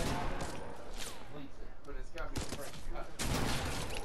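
Rifle and pistol gunfire in a video game gun-game match, with repeated shots and bursts crackling over a dense, busy soundscape while people talk throughout.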